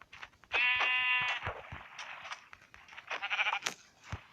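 Sheep bleating in the Minecraft video game: several loud, close, wavering bleats in succession, the longest near the start and a cluster of shorter ones toward the end, with no talking over them.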